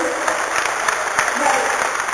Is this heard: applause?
yes